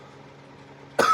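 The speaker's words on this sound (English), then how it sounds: "That's the first time I've coughed on this." A single sharp cough bursts out after a big hit from a blunt, loud and close, following about a second of quiet room tone.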